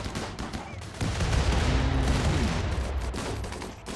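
Automated turrets in the colony game Rimworld open fire in a dense, continuous burst of gunfire that swells after the first second and holds loud and steady to the end, with no talk over it.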